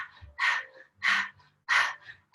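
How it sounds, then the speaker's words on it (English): Breath of fire yoga breathing done through the mouth like a dog panting: three forceful, breathy exhalations at an even rhythm, close and loud, with short quiet gaps between. "So it'll be like a dog panting breath."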